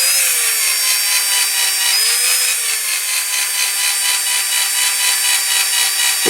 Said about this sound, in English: just with a hand drill and holding it